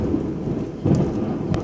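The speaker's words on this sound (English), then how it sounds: "This is the worst storm I've seen in a long time." A severe thunderstorm during a power outage, with a low rumble of thunder swelling under a steady hiss of rain, close and fairly loud, with no voices over it.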